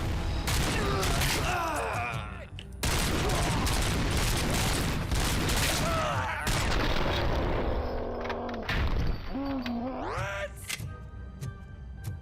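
Heavy main-gun fire in the video game Robohobo Cop, a dense, sustained barrage of booming shots with brief breaks, mixed with groaning voices and game effects throughout.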